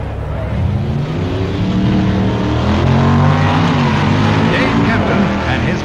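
Drag racing cars at the 1965 NHRA Winternationals, Ernie Dutra's Corvette against a Hemi wagon in B Modified production, roar loudly with a sustained engine drone that builds and holds, with crowd-like noise beneath.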